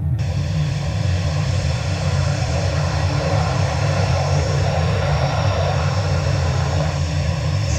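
Steady, loud aircraft engine drone with a constant hum and airflow noise fills a flight simulator game as an airliner approaches to land on runway 16 left, unbroken and without voices.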